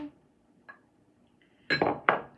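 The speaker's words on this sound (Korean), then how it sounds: "여기에 계란 두 알 넣어주세요" Eggs cracked into a bowl of glutinous rice flour batter for chapssal mochi: a faint tap near the start, then two clear knocks of shell against the bowl rim with a short clink after each, close and otherwise quiet.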